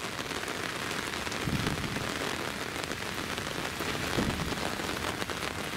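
Steady rain falls during an outdoor walk in Zaporizhzhia, a dense, continuous patter of drops on surfaces that stays even and close throughout, with no voices.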